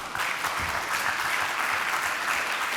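Steady, dense applause from a conference audience fills the room after a speech on standards in public life, many hands clapping together at an even level with no pause.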